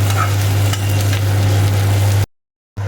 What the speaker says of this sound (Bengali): পেঁয়াজটা একটু ভাজা হয়ে গেছে লাল লাল